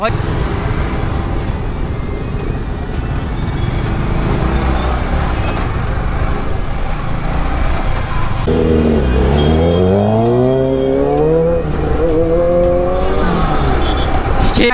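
Motorbikes ride as a large group heading into the Khanapara field for a biking brotherhood gathering. Engines drone and rev loudly and close by, with one rising, revving pass standing out midway, and traffic noise runs underneath.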